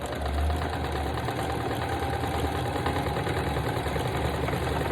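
A sewing machine running continuously on a single straight stitch while stitching fabric scraps with pressed flowers, a steady, fast mechanical whir held close and at an even level.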